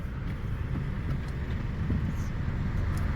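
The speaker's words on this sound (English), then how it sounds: "you never get away from the traffic noise" Steady traffic rumble along Sunset Boulevard in Los Angeles, a continuous low hum of passing cars without distinct individual vehicles, heard from nearby and fairly loud throughout.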